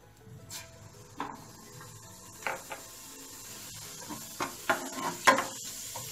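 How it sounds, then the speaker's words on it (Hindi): Green cardamom sizzles faintly in hot oil for chicken biryani as it is stirred, before cumin is added. A soft hiss runs under scattered, sharper clinks and scrapes of the spoon against the pan. "तो पहले हम इसमें छोटी इलायची डालते हैं अपने ऑयल थोड़ा इसे चलाकर, फिर ये अपना ज़ीरा डालेंगे"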